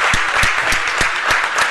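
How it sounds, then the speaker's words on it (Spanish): Audience at a city council meeting applauding for Tommy Lasorda with brisk, dense clapping that carries a quick rhythmic pulse, loud and close, over a short burst with no voices on top. "Un gran aplauso al gran Tommy La Sorda"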